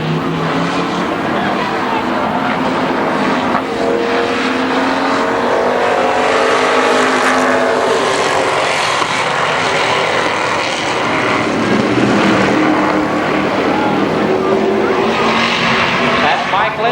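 Four street stock cars run a four-lap trophy dash at Columbus Motor Speedway, their engines a continuous loud roar rising and falling as the pack circles the track, with race announcing over the noise throughout.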